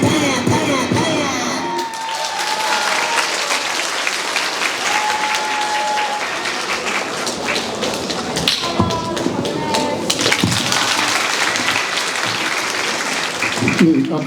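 High school audience at an admissions information session applauding a school dance club performance, loud sustained clapping from a crowd with some cheering, heard close and continuous, with an announcer speaking over it.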